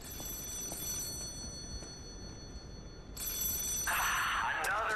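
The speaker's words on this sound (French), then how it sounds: "Oh, un téléphone." An old-fashioned telephone bell rings out in the video game Lies of P, a bright rapid jangle that starts near the end over a steady background of game ambience.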